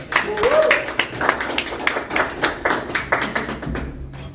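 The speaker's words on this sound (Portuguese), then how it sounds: "uma salva de palmas ao Longuinho, gente." Crowd applause, a dense patter of many hands clapping for several seconds, with voices mixed in underneath.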